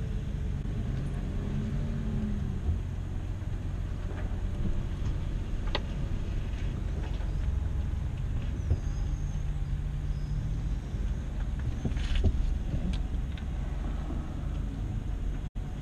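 Chevrolet Colorado ZR2 pickup crawling off-road over uneven ground, a steady low engine rumble with faint rattles and knocks from the suspension working, a sharper jolt near the end.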